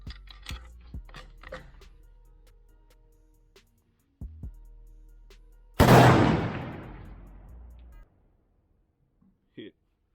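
A single loud rifle gunshot cracks out during long-range shooting at 996 yards, its report rolling off in a long decaying echo, preceded by faint clicks and mechanical handling.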